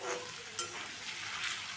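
Shredded potatoes fry on full heat in oil for crispy jhuri aloo bhaja, a brief bright sizzle with light clicks of stirring close by.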